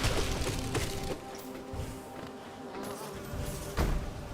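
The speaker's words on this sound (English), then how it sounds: "I don't want to kill the big bees just yet" Big bees in the video game Hollow Knight buzz in a steady, droning hum that continues throughout, with a sharp hit or crash near the start and another near the end.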